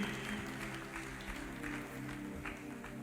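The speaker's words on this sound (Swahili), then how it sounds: "tuwapigie makofi mazuri" A church congregation claps for the groom's parents at a wedding service, a faint, dense patter of hands sustained throughout without breaks, no voices standing out.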